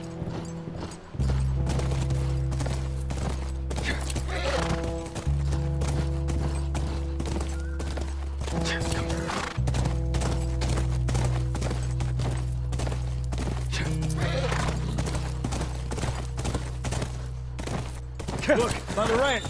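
Horse hooves clop steadily and a horse whinnies in the video game The Last of Us, heard over a continuous low musical drone that runs throughout.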